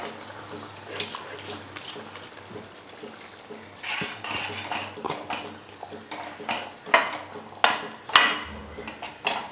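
Water swishes around a mixer jar and splashes into a pan while a kurma cooks. The sound starts as faint sloshing and builds into several loud, irregular splashing pours close by.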